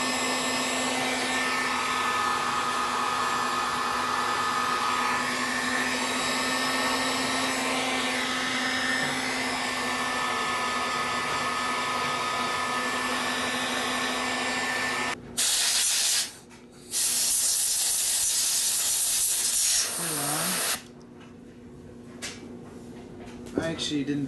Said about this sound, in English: I'm going to go ahead and heat shrink this.